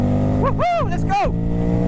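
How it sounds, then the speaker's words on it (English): A Ducati Hypermotard 950 SP motorcycle with a tuned exhaust and ECU revving out in fourth gear, loud and close, its engine tone rising and falling in sweeping pitch arcs over a rough steady drone. "Fourth gear, rev it out, baby!"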